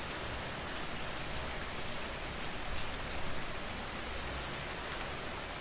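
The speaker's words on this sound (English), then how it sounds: "while the sound of rain covered the gaps" Gentle rain patters in a soft, even, continuous hiss, quiet and unbroken, with no voices.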